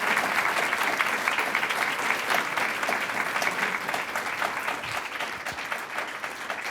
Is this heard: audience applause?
yes